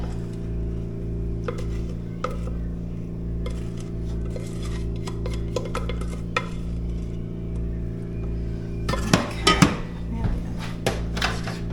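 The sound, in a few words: stirring caramel corn to coat it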